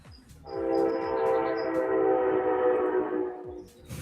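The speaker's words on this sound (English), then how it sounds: "just record that train sound so I can put it on my soundboard" A train passes with a long, loud horn blast that holds steady for about three seconds and then fades, over a low rumble of the rails.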